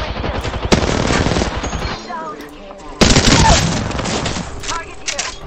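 Loud video game gunfire in two heavy bursts of rapid shots, the first fading out and a second, sharper volley starting a moment later. Voices talk over the shooting.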